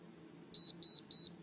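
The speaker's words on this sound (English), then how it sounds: "press the button so that hopefully you get the 3 beeps" A body spa lymphatic drainage machine gives three short, evenly spaced high electronic beeps over a low steady hum, clear and close.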